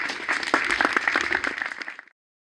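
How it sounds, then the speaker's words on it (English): An audience applauds the event technicians after a lecture, a lively burst of many hands clapping that swells briefly and then cuts off abruptly near the end. "please give them a round of applause"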